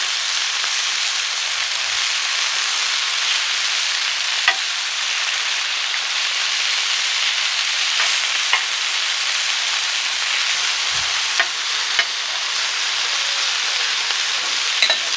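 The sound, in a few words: vegetables spread and sizzling on a plancha griddle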